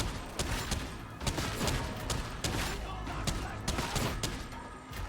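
Enemy gunners in a video game fire continuously, producing a dense, fast rattle of shots that stays fairly faint and steady throughout with no pauses.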